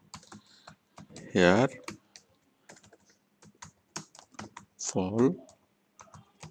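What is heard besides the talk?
typing on a computer keyboard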